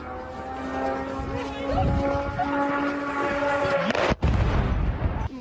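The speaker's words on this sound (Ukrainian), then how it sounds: "Просто посеред житлових кварталів чути пронизливий звук двигуна шахеда і вибух." A steady droning whine from a Shahed drone's engine holds for several seconds over residential blocks at night in Ukraine's Khmelnytskyi region, then a sudden sharp explosion cuts through near the end, followed by rumbling noise.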